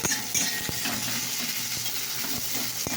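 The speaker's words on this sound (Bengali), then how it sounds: "পেঁয়াজ ভাজা হচ্ছে" Onions frying in a pan make a dense, continuous sizzle close by, with occasional sharp clinks and scrapes of a utensil stirring against the metal.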